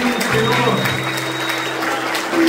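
A church congregation applauds with a continuous wash of clapping that holds steady at moderate loudness, with a faint voice and soft music underneath.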